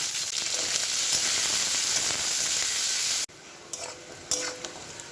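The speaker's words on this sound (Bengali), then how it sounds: "এবার পেঁয়াজগুলো এতে ভাজতে বসিয়ে দেবো।" Oil sizzles and hisses loudly as sliced onions fry for biryani, then the noise drops suddenly to a quieter crackle with a few stirring clinks.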